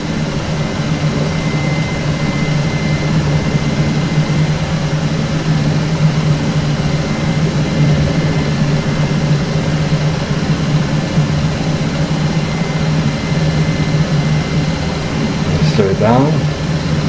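Helicopter engine in a flight simulator video game, a steady loud droning whine with a low rotor hum held throughout, briefly shifting near the end, under occasional talk.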